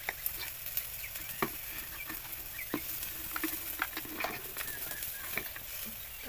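Eggplant frying in oil with chillies and salt gives a soft, constant sizzle, broken by scattered light spatula scrapes and stirring clicks against the pan, fairly quiet and with no talk.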